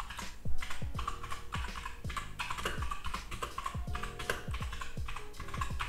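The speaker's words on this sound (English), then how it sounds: "So now we are in the Notes app, and obviously we can type." Typing on a Keychron K2 v2 wireless mechanical keyboard with brown switches and an aluminium frame, a steady close stream of crisp keystroke clacks with occasional heavier thocks, no voices.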